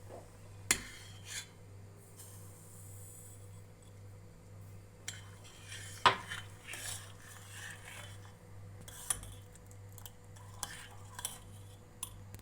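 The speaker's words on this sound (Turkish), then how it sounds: "Karıştırıp bir çay bardağı şekeri ekliyoruz." A spoon scrapes and clinks faintly against a pot while sugar is stirred into milk for rice pudding, with soft irregular taps over a steady low hum from the stove.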